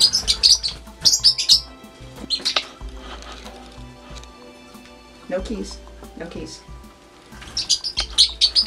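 A parrotlet chirps in short high-pitched bursts, near and bright, with a person speaking in between and brief quiet stretches.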